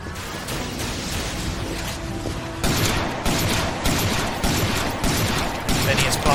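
A shotgun fires in the video game Dyna Marisa 3D, a series of sharp, loud blasts in a regular rhythm over continuous game noise, with a voice talking faintly underneath.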